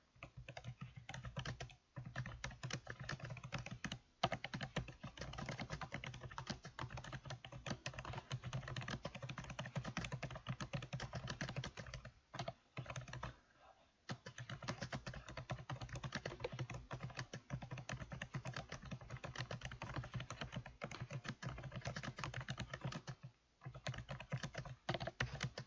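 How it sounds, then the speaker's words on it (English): A research paper is typed on a computer keyboard in Word, giving a quiet, continuous patter of rapid key clicks with only a few short pauses throughout. "I will start to type this on the video"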